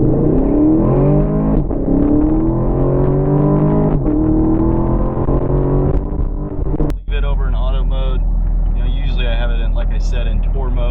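A 2016 Chevrolet Camaro SS pulls hard on a slick road, its V8 exhaust rising in pitch through a loud run, then a gear change and renewed revving with the throttle feathered.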